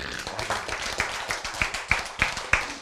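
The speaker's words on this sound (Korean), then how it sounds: "박수." An audience claps during a Korean sermon about hell, a run of sharp broadband hand claps building unevenly into scattered applause, fairly near and moderately loud with no talk over it.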